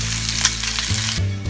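Steady sizzling and crackling of chicken frying in a hot pan, with a low hum beneath it.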